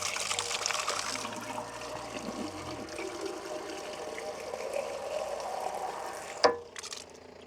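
A steady stream of water runs from an outdoor drinking-water tap, a continuous close splashing rush that holds evenly for several seconds before a brief knock and a drop to quiet.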